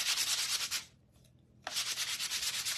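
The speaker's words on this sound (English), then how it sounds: "just a very light sanding with a 220 grit piece of sandpaper or sanding block works great" Light sanding of painted craft work with a 220 grit sheet or sanding block: close, rhythmic rasping strokes that stop for a short pause, then resume at the same pace.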